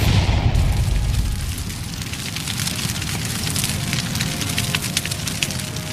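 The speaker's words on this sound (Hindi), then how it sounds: "तभी एक धमाका होता है।" A cartoon bomb explodes in a deep, heavy boom at the start, then fades into a long crackling, rumbling tail of debris and fire noise with no speech.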